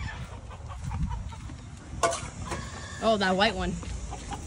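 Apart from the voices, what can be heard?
chickens clucking in a poultry pen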